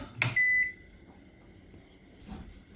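An oven being switched on to grill chicken gives a bright electronic beep, held briefly, then a second softer beep about two seconds later over quiet kitchen background hum.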